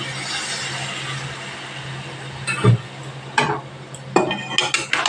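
A spoon scrapes and knocks against a pan while thor ghonto, a banana-stem curry with shrimp, is stirred with added water, giving a few scattered clanks and scrapes over a steady background hum.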